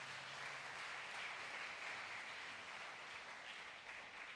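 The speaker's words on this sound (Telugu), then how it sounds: "చప్పట్లు కొట్టి దేవుని స్తుతిద్దాం." Congregation applause inside a Baptist church during a candlelight service, steady dense clapping of many hands held at an even level throughout, with no voices standing out.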